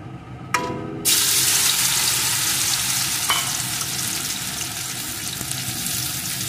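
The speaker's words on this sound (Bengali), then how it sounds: "আমি উচ্ছেগুলো সর্ষের তেলে ভাজছি বন্ধুরা" Bitter gourd drops into hot mustard oil and a loud, dense sizzle erupts, continuing steadily close by with a few faint clinks.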